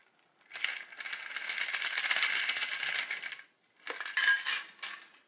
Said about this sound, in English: We're gonna strain it right into our glass.